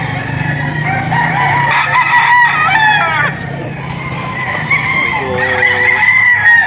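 Several roosters crow loudly and repeatedly, overlapping one another, with clucking and a busy crowd murmur behind them, at a livestock auction market in Padre Garcia, Batangas.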